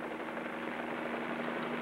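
Steady helicopter rotor and engine drone from a 1958 radio drama sound effect, a continuous even whir with a constant hum, heard alone without talk.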